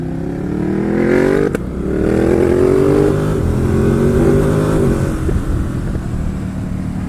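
A 2020 Ducati Supersport S motorcycle engine revs loudly and close while being ridden, its pitch climbing through the gears, dropping briefly at a shift, then rising again before easing off, with no voices.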